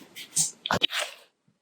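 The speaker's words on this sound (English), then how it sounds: "I'm gonna sneeze." A single close, sharp sneeze with a breathy wind-up, followed by a brief second burst, then quiet.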